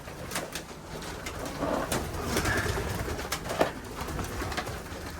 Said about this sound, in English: This is the girls and some younger unsexed pigeons.